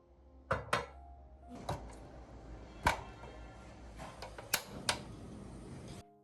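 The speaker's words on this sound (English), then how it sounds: "Slice the mushrooms into bite-sized pieces, not too small" A knife slicing mushrooms into bite-sized pieces on a board, a series of sharp separate chops and taps at an uneven pace, close and fairly quiet.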